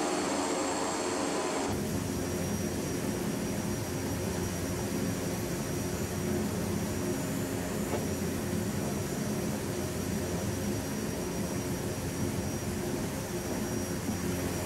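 Royal Nepal Airlines Twin Otter in flight on an IFR trip from Janakpur to Kathmandu, a steady loud engine and propeller drone with a thin high whine, continuous and unchanging after an abrupt start.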